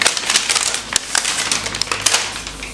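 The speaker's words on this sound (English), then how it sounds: "Let's unwrap this." A wrapped book is unwrapped up close, with loud crinkling and crushing of paper in a rapid, continuous run of rustles and tears, with no talking.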